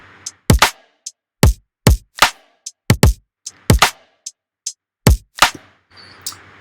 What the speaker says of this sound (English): So altogether, the kick and snare group sounds like this.